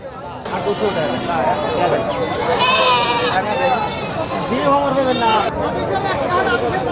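Goats bleat repeatedly amid the busy chatter of a rural village livestock market after Eid, with overlapping voices and crowd noise throughout.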